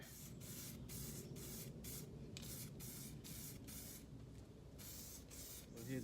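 Satin black spray paint hisses onto a metal Ferrari 348 grille outdoors in sunshine, steady close bursts with short pauses between passes, no talking.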